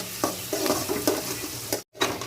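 Onions sizzle in a hot pan, a soft continuous frying hiss broken by light stirring taps and scrapes, with a brief moment of silence near the end.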